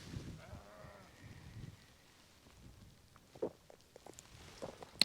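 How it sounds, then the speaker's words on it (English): Sheep bleat near a farmyard in the Cheviot Hills, a few soft, scattered calls at a moderate distance over quiet outdoor background with faint rustling and small knocks. "there's a load of noisy sheep around this area"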